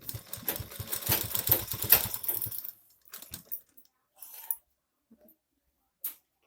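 A sewing machine stitching pieces of a long frock runs in a fast, close, rattling burst for about three seconds, then stops, leaving a few faint clicks and handling sounds.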